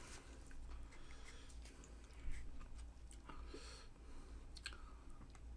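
Close-up chewing and biting of tteokbokki and fried snacks in a Korean mukbang, wet squishy mastication and small clicks repeating steadily at very near range, with no talking.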